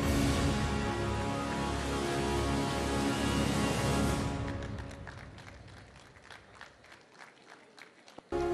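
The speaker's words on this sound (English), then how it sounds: "let's give a big round of applause to Dr." A graduation ceremony audience applauds a newly graduating doctor with dense, loud clapping that thins out and fades over the second half.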